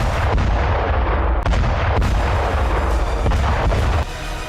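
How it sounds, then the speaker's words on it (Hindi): Rocket and artillery fire on the Zaporizhzhia front in the Russia-Ukraine war: a dense run of loud booms and rumbling blasts that follow closely on one another, with no voices. "रूसी सेना ने रॉकेट अटैक किया तो यूक्रेनी सेना का ठिकाना जलकर राख हो गया।"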